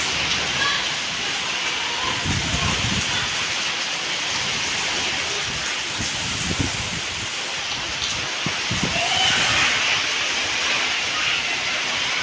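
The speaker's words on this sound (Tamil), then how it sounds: "இந்த வெயில் காலத்துலேயே மழை" Heavy rain falling during the hot summer season makes a dense, steady hiss with scattered louder splashes, continuous throughout and fairly close.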